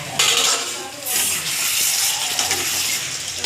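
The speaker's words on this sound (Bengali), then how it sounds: "আর মাংসটা এদিকে ঢাকা দিয়ে দিয়েছি, ঢাকনাটা তুলে দেখি কতটা হলো।" A pot lid lifted off cooking duck meat, with a metallic clank and scrape followed by a louder, steady sizzle of the meat that carries on to the end.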